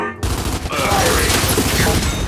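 Sustained, dense gunfire in Gears 5, a loud unbroken rattle of shots that begins after a brief quiet moment and fills the whole stretch, with faint game sounds mixed in.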